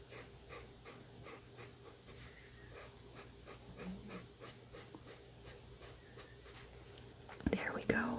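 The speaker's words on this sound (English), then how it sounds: "Some of them are snoring." Several dogs asleep indoors with a cat snore softly in a steady, regular rhythm of faint breaths, with a brief louder rustle near the end.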